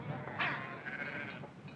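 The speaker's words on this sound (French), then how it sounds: "Allons, faites-moi avancer ces moutons." Sheep bleating in a 1959 Western ranch scene, a short close cry rising over a low background murmur, with a fainter second call following.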